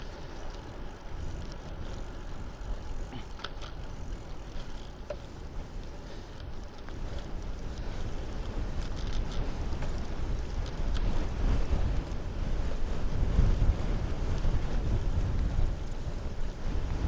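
Wind buffets a camera microphone mounted on a bike as a steady, close, low rumble that grows slightly stronger over the length of the clip, with no voices.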